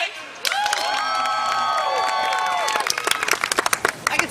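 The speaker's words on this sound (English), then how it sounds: "Probably for the applause of the audience." Audience applause and cheering at a celebration-of-life event, a dense burst of clapping with shouts that rises suddenly and carries on loud throughout, thinning into separate claps near the end.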